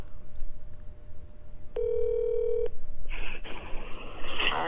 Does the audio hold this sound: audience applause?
no